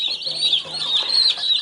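Meat chickens of the 508 or 708 strain cluck and chirp steadily and close by, a continuous busy chatter of several birds with no talk over it.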